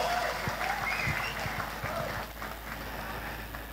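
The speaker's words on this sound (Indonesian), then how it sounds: "tepuk tangan untuk Bapak Ibu semua" Crowd applause at an outdoor religious lecture gathering in Indramayu, steady clapping mixed with murmuring voices and some whistling tones over a constant low hum.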